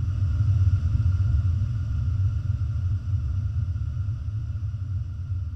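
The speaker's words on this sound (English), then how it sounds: "Just a crazy big cinematic impact subby sound that I love." A deep, sustained cinematic sub-bass impact rumbles for several seconds, loud and heavy, with a long reverberant tail from the Valhalla Supermassive reverb plugin and no voices.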